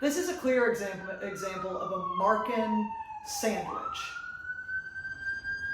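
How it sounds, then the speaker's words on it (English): An ambulance siren outside wails through falling and rising sweeps, fairly loud and steady, under a man's continuous speech. "Sorry for that ambulance noise out there"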